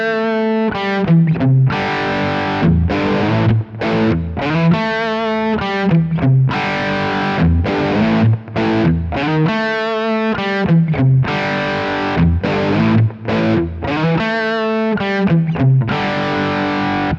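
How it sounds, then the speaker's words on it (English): Heavily distorted electric guitar plays the main riff of a song, loud and close, with choppy repeated chords and short gaps in a driving rhythm, no voices. "I will play the main riff first"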